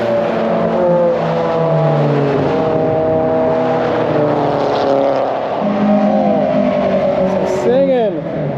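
A Vauxhall Vectra C20XE engine revs hard in a car on track, pitch climbing through gears and falling, loud and close, with a voice over it.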